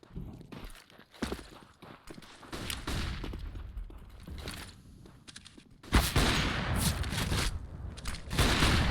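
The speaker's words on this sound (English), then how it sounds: "Shots coming out." Gunfire in a Counter-Strike match on the ESEA Main league: repeated rifle shots and bursts with footsteps between them, growing dense and loud near the end.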